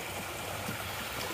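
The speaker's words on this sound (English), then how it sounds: "there's a really pretty creek" A pretty creek near Tom's Run Shelter on the Appalachian Trail flows with a steady, soft broadband rush of water, faint and continuous without voices.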